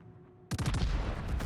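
Naval guns erupt in a sudden burst of heavy gunfire from an Italian Tier 9 secondary-armed cruiser, the Michelangelo, in World of Warships: a quiet start, then a loud volley of overlapping booms rolling on for about a second.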